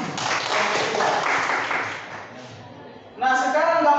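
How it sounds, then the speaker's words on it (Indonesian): A brief burst of group clapping in a classroom lesson fills the first couple of seconds, fades away, and a voice begins speaking right after. "tepuk tangan buat"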